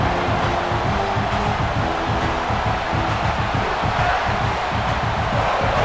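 A stadium crowd roars steadily throughout a college football video game, a dense, loud wash of cheering with no break.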